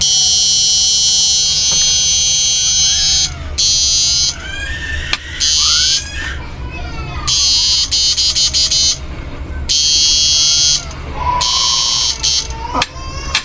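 A faulty relay on a 68000h yellow unit, its contacts rusted, buzzes loud and close in harsh bursts that keep cutting in and out and shifting in pitch, while someone talks quietly in between.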